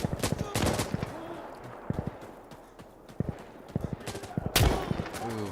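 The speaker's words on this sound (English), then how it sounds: "it's gonna be some heavy gunfire" Heavy gunfire in the video game Insurgency Sandstorm comes as sharp, scattered shots and rapid bursts, some distant and some near, with a loud blast near the end over a constant background rumble.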